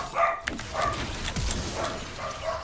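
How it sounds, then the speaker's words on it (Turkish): A pet dog barks in the background of a home, a few yips and short barks spaced unevenly, faint and somewhat distant, with no talking. "cidden o sesi duymuşsunuzdur köpeğim de havlıyor"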